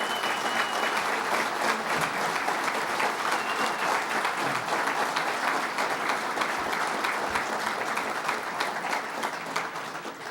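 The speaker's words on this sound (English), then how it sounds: "So give yourselves a round of applause." An indoor crowd at a power plant announcement event claps steadily and evenly for about ten seconds, dense applause tapering slightly at the end.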